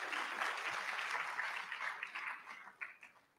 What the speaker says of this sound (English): Clap for yourselves, clap for yourselves.